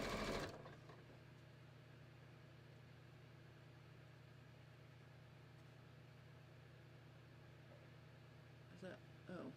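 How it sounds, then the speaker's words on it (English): A sewing machine runs a triple zigzag stitch along a fabric edge for a snap fidget mat, a steady continuous motor hum with a faint rapid needle rhythm, close and fairly quiet, starting after a brief louder opening. "I should be able to use my triple zigzag stitch and just zigzag right on the edge"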